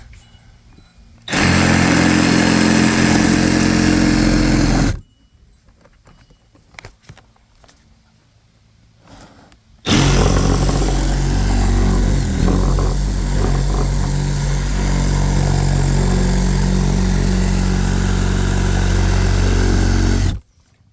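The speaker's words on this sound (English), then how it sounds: "I'm going to use a Sawzall type machine and see what I can do here." A Sawzall-type reciprocating saw cuts out a profile in two long, loud, harsh buzzing bursts, the first lasting a few seconds and the second running about ten seconds, with a quiet stretch of small clicks and handling noises between them.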